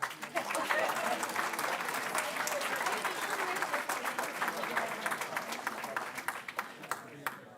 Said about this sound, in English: let's give one more round of applause to Wilkinson, JP, and Ashley